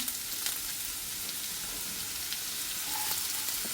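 Onion sizzles steadily in hot oil in a pan on the stove, giving a close, even crackling hiss with faint stirring and no talk.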